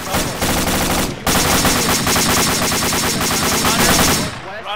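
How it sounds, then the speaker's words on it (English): Machine gun fire in the video game Arma, played with the ACRE radio mod: dense, rapid automatic bursts that break off briefly once, then resume and carry on at close range. "we're taking fire"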